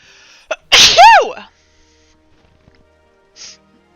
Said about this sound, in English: For sneezing in everybody's ears.